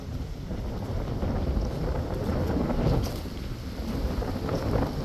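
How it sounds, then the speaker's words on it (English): Wind blowing outdoors beside a huge oak tree at a large antiques fair in Round Top, Texas, a steady rumbling gust buffeting the microphone with swelling surges, loud and continuous with no speech. "Can y'all feel that wind?"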